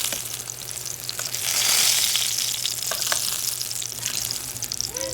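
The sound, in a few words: eggplant frying in oil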